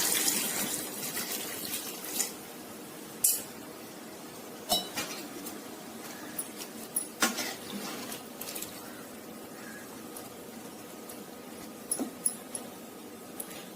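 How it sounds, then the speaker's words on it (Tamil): Water splashes into a cooking pot holding mango for mango kaadi, mixed with scattered clinks and knocks of kitchenware in a quiet home kitchen, with no one talking. "இப்ப இதுக்கு கூட கொஞ்சம் தண்ணி விட்டுக்கலாம்."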